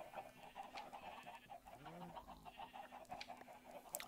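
Chickens cluck in a Minecraft farm pen crowded near the gate, a busy run of short game clucks over steady background ambience, with no talk.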